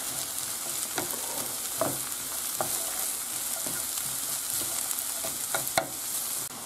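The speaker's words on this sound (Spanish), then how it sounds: "ahora tenemos que echar el chorizo. Y lo tenemos que rehogar unos 5 minutos." Chorizo sautés in a pan with a continuous close sizzle, broken by scattered stirring clicks and scrapes from a utensil, no voices.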